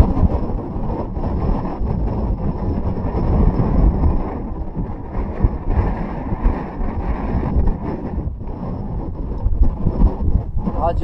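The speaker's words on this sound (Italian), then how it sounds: "Oggi ho il vento contro" Strong headwind buffeting a microphone on a cyclist's ride along the Alaska Highway, a loud, rumbling, gusty roar that surges and dips irregularly throughout.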